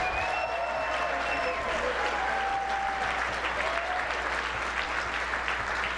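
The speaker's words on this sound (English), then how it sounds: "One more round of applause for all our champions." A sustained round of applause for the champions at an arts gala, steady dense clapping from a large audience filling the room evenly, with faint voices and a held tone mixed in.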